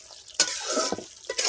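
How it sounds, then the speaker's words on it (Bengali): Potato and bitter gourd curry with mustard paste being stirred in a pan as the liquid cooks down, with soft scraping strokes and a faint sizzle in short bursts. "আমি এখন একটু ভালো করে নেড়ে দিচ্ছি"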